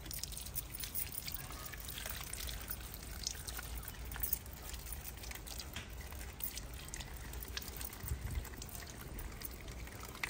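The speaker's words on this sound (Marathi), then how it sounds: "आता आपण पपई स्वच्छ धुवून घेणार आहोत।" Raw papaya from the garden is rinsed under running water, a steady close trickle and pour with scattered drips continuing for several seconds without talk.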